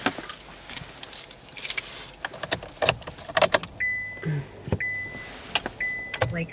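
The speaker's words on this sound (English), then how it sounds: "Where are the car keys?" Car keys jangling in a few brief metallic bursts, followed by the beeps and chirps of a car being unlocked and started, all close by with no talking.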